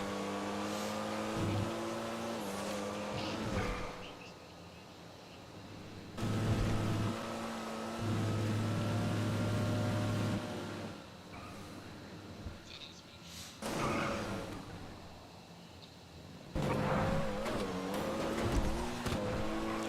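Comet Retro Custom race cars in a Grand Theft Auto racing series, engines droning and shifting pitch as they run near and pass, with occasional tire noise, under steady commentary voices.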